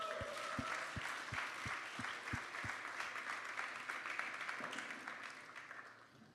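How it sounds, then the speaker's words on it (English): A dinner-event audience gives a steady round of applause that continues for several seconds, with a few louder nearby claps standing out before it gradually fades. "Let's have a round of applause just for that."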